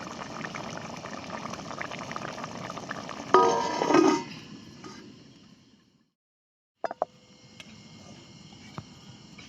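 Vajri dal bubbles in a hot clay pot taken off the flame, a close, soft rolling boil that hisses louder for a moment, fades to near silence, then returns with a few faint pops and clinks.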